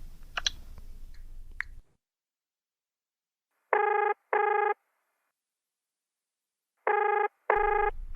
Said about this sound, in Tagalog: Wait nga, tawagan ko ulit.